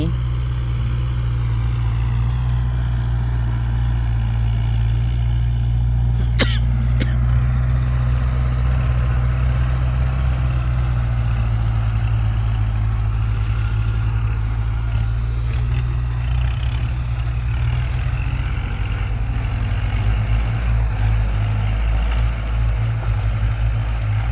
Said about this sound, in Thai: วันนี้ช่างเอี่ยวทำรถไถติดด้วยนะ